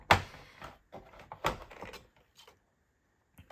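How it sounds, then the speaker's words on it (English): Cardstock is cut to size with a blade along a scoreboard guide, giving a few sharp, close scraping strokes and clicks in bursts, then near silence. "I'm gonna cut this to size. I like to use my scoreboard as a guide though"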